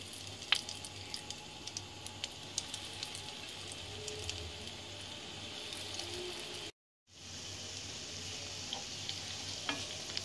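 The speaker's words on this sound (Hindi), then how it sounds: "मटन कबाब को शैलो फ्राई करेंगे।" Mutton keema kebabs shallow frying in hot oil, a soft, steady sizzle with small pops and crackles, cut by a brief silence before the frying resumes; no talking.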